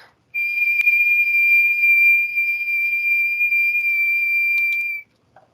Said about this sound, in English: when I whistle, you can see that I've got like that one clear defined wavelength